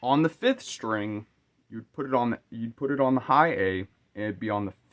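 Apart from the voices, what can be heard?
No distinct noise like a dog, phone or traffic.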